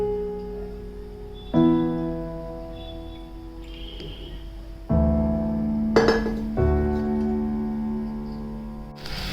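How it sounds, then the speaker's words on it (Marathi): A small metal tadka pan is set down on a stove, making several sharp, ringing clinks and knocks at close range with quiet pauses between them. No pouring of oil is distinct. "त्यासाठी मी वरती तडका पॅन ठेवत आहे आणि आता तडका देऊन घ्यायचा आहे. पॅन मध्ये मी आता तेल टाकत आहे तडकासाठी."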